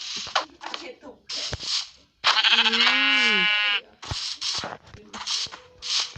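A Minecraft sheep lets out one clear, drawn-out bleat in the middle as it is hit with a mushroom, while people talk before and after it.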